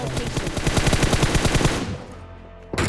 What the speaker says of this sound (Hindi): तभी हम पर फायर हो जाती है।